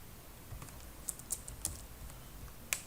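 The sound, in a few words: typing a file name on a computer keyboard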